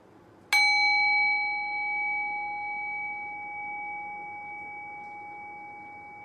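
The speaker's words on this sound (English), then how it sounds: "allowing the sound of the bell as it decays out and fades into silence" A single bell is struck once, ringing out with a bright attack, then sustaining a pure tone that slowly decays toward silence in a quiet room.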